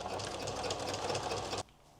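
A sewing machine runs steadily, stitching over a folded fabric edge in a continuous close whirring burst that stops abruptly near the end.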